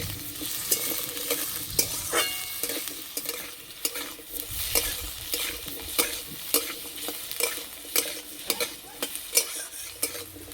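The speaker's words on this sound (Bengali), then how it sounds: "ভালো করে ভেজে নিয়েছি" Bathua greens frying in a pan, with a continuous close sizzle and frequent sharp scrapes and clinks of a spatula stirring against the pan.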